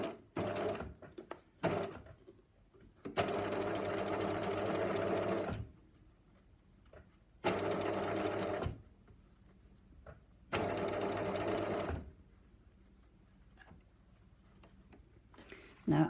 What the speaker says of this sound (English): stitching like this with a matching thread colour would be a much more forgiving process